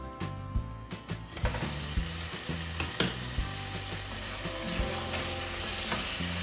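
Pilau ingredients sizzle and fry in a pot while a spoon scrapes and stirs in an uneven rhythm, close up and steady, with no talking.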